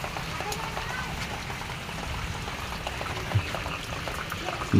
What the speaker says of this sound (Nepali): बहुत जोरले पानी पऱ्यो यार आज